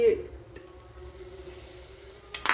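Fried onions go into a warm pan for a Bengali eggplant curd curry, giving a steady, fairly close sizzle with soft stirring and a brighter clatter near the end.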